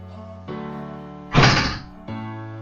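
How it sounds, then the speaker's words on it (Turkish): A door closes in the Minecraft video game with a single solid thunk standing out over steady, droning background game music, loud and close, with the tone carrying on after the hit. "kapı kapandı."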